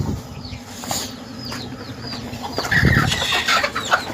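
Chickens cluck and chirp in a farmyard, including a rooster, with short bird calls scattered over a steady background hum and a louder burst of fowl noise near the end.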